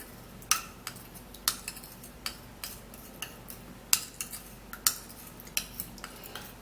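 A spoon stirs a mixture in a bowl, making a steady run of sharp clinks and taps against the side, quiet and close.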